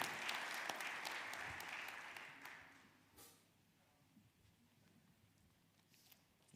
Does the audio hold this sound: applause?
yes